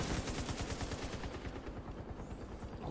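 Rapid bursts of automatic gunfire rattle in a firefight in the shooter game The Division 2, dense and loud at first and then thinning out.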